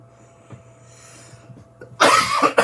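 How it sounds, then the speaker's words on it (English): A person coughs, several harsh loud bursts close up, coming after a quiet stretch of faint room noise. "Let me just go and cough properly."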